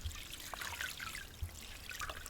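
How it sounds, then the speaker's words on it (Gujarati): Water is poured over fresh fenugreek leaves to wash off soil, making a soft, quiet trickle and splash heard close up with no talking. "આપણે માથે પાણી રેડી દઈએ કેમ કે આમાં માટી બહુ હોય"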